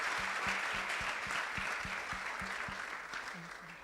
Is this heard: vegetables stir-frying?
no